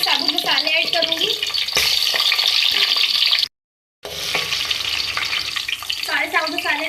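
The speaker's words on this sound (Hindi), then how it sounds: "सारे साबुत मसाले मैं ऐड कर रही हूँ। फ्राई कर लें।" Whole spices frying in hot oil for Nawabi chicken, giving a loud, continuous sizzle with stirring scrapes, briefly cut by a moment of silence before resuming.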